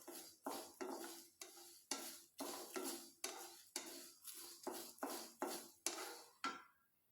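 Curry leaves being roasted in a pan, heard as a steady series of about a dozen rhythmic scraping stirs against the metal, each a short rough burst with a faint sizzle underneath, close and fairly loud with no talk.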